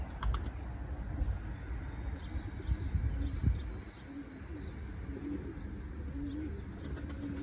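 Soft, low cooing from pigeons repeats over a steady, fairly loud background hum, with a few faint higher chirps.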